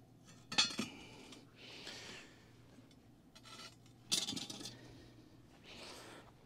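A camp oven pot is set down on a metal deflector plate resting on three rocks over coals. Two separate metallic clinks and scrapes ring out close by, with soft rubbing in between.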